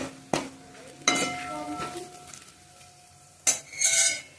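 Dal tadka with red chili powder and Byadgi chili in a pan is stirred with a few sharp metal clinks and scrapes of a spoon against the pan, close, over a faint sizzle.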